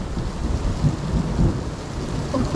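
Loud thunder cracks directly overhead in a thunderstorm, rumbling low and heavy over steady rain on an off-grid homestead, with no talking.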